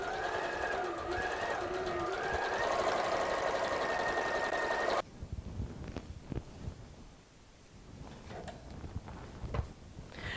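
Domestic sewing machine stitching the centre back seam of a kimono, running steadily and loudly for about five seconds before stopping, followed by quieter handling clicks and rustles nearby.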